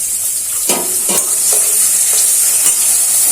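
Small shrimp frying with onions in a pan for a traditional Bengali dish, a steady loud sizzle broken by several brief scraping stirs, with no talking.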